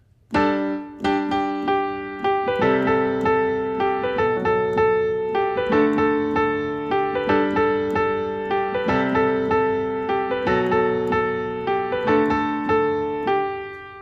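Piano played with both hands, low notes under a higher melody, sustained chords ringing in a slow, steady pattern.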